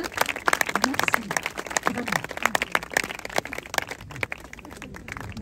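Audience applause at a support gathering in Nancy, France: a dense patter of claps running throughout the clip, with a voice speaking loudly over it.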